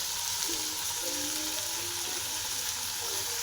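Cluster beans sautéing in a pan for a Marathi-style dry sabzi, a constant soft sizzle with faint stirring throughout, close and even.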